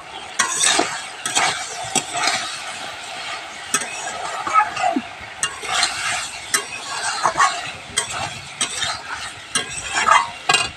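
Curry with mustard sautéing in a pan over a burning stove, a steady loud sizzle broken by repeated scrapes and clinks of a spoon stirring against the metal, with faint movement in the background.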